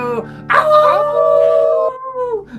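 A dog gives one drawn-out howl, starting with a short yelp, then rising into a sustained, wavering tone that slowly falls away at the end, loud and close.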